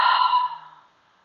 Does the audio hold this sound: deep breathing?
yes